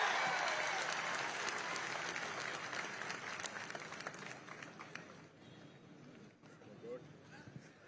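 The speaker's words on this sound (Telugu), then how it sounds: "గట్టిగా చప్పట్లు కొట్టి అభినందించండి." Audience applause for a police constable at a public event with the chief minister, loud sustained clapping from a crowd that gradually thins and fades toward the end.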